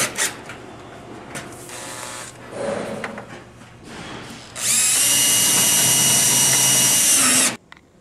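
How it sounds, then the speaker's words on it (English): A power drill drives screws into the truss of a storage building: faint handling knocks first, then a loud, steady, close whirring run for about three seconds that stops abruptly. "put the center rib into the center of the truss there, and then put some screws in it in the top"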